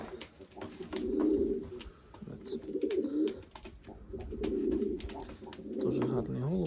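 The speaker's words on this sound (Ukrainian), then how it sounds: "Ось такий голубок." Pigeon cooing in repeated low, throaty phrases close by, with brief pauses between calls and a bit of background noise.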